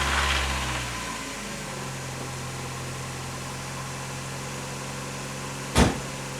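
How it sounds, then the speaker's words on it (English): A 1990 Mazda Miata engine catches with a brief loud burst, then settles into a steady low idle drone, with one short knock near the end. "So I'm gonna start it up, and hopefully it starts"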